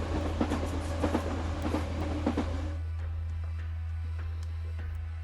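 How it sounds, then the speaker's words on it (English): A train in the game Arknights rolls into a station with rhythmic clacking and rumble that eases and quiets partway through, leaving a low steady hum. "That sounds like a train."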